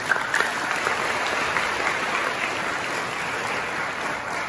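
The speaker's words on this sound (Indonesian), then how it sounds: "Tepuk tangan buat mereka." Students applauding at a school orientation session on drug awareness in a Jakarta vocational school, a dense, even burst of clapping from a large crowd filling the hall throughout.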